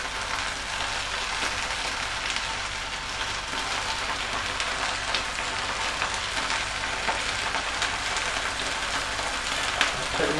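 Stir fry and sauce sizzle and crackle in a hot pan, a steady close hiss running throughout with occasional pops and scrapes.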